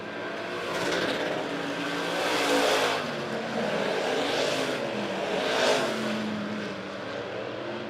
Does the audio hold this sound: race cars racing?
yes